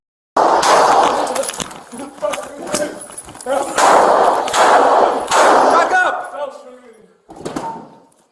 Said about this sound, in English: The officer attempted to reposition himself away and discharged his firearm, striking Wilson 3 times.